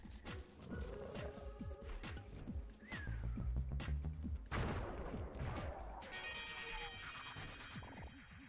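A loud explosion in the video game Sly 2: Band of Thieves bursts out with a heavy low rumble and crackling debris, rising above busy game sounds and music before trailing off into scattered clatter.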